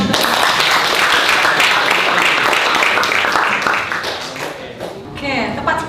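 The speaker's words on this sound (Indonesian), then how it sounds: "Kasih tepuk tangan dulu." Classroom full of students clapping in a biology lesson, a dense continuous patter of applause that stays loud for several seconds before thinning out near the end, with voices mixed in.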